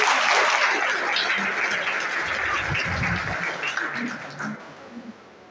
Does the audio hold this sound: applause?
yes